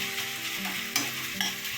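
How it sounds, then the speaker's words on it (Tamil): Tomatoes and vegetables sautéing in a pan, with a steady, close sizzle broken by a couple of sharp spoon scrapes as they are stirred. "இப்போ இது இன்னும் கொஞ்சம் தக்காளி நல்லா வதங்கட்டும்."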